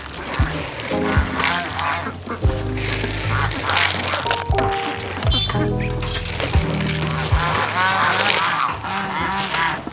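Ducks quack over a busy background of steady hum and tonal sounds, the calls scattered and overlapping throughout, at a farm after a transfer.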